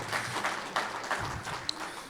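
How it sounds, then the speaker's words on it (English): An audience claps through a business opportunity forum, steady applause for about two seconds with a faint sharper pop near the end and no talk. "so a round of applause for him"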